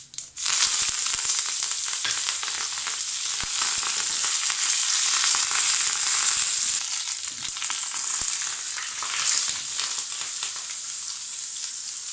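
Curry leaves and dried red chilies hit hot oil in a tempering for Bhopali-style dahi phulki, setting off a loud, sustained crackling sizzle that starts abruptly and keeps popping close by, with the flame already switched off.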